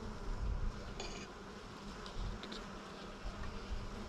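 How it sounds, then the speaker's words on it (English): Honey bees at an apiary hive make a steady, continuous buzz close by, with no talking heard. "Good looking bees, good looking bees."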